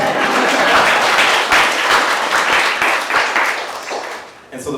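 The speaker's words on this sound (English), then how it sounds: "And you can clap." Audience applause at an arts residency showcase, a dense, steady wash of many hands clapping that fills the room and tapers slightly near the end, with no talking over it.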